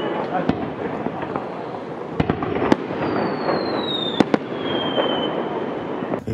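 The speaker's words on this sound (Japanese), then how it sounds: "突然花火が、" Fireworks burst outdoors near a hot spring inn in Japan, with several sharp cracks and a whistling rise over a steady outdoor rumble, some pops near and loud.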